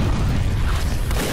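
Explosion in the video game Ashes 2063, a heavy, low boom that rumbles on as a dense, steady roar for its whole short length, with no talk over it.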